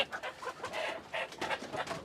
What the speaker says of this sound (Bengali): আমাদের মুরগি মার্শাল এখন পর্যন্ত ডিমের পার্সেন্টেজ সব ভালো ভালোই দিতেছে